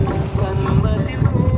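A boat moves across the sea off Yiti beach near Muscat, Oman, with wind buffeting the microphone over a rushing wash of water.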